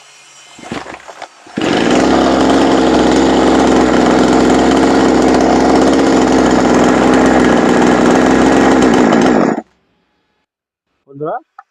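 A chainsaw under repair, its carburettor fine but the engine not starting, suddenly fires and roars loud and steady for about eight seconds, then cuts out abruptly; a voice is heard faintly before it starts and briefly after it stops.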